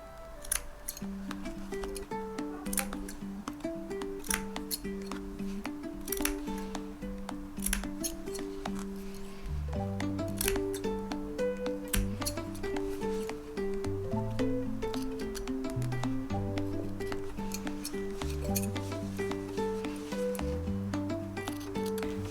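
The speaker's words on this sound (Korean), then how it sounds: "먼저 원단의 여분을 약 1cm 남기고 모양대로 잘라주세요." Scissors snipping fabric for a handmade embroidered lamb doll, a steady series of close, crisp cuts and clicks heard over soft background music, with no talking.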